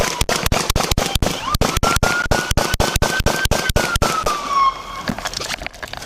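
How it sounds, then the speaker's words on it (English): Rapid volley of gunshots from officers firing at a man with an AR-15-style rifle outdoors in Huber Heights, Ohio: about twenty sharp, evenly spaced loud cracks over roughly five seconds, with a siren-like tone rising beneath, then quieter scuffling. "shots fired!"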